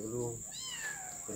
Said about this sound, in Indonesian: Halo kucing, cantiknya kucingnya.